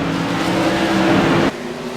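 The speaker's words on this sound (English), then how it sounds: "We are back under the green in the 35 of Seth DeMerchant, leading the Tour Modifieds around turn number 2" Tour Modified race cars roar around a turn at a speedway, loud engine drone sustained for over a second before dropping off abruptly as the cars pass.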